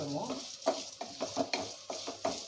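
Cinnamon and spices frying in hot oil, sizzling and crackling in a pan, punctuated by several rhythmic scraping stirs of a utensil.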